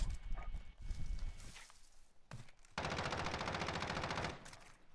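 Rapid automatic gunfire from a first-person shooter video game, a dense continuous burst of shots in the second half after scattered shorter bursts, loud and close with no talking.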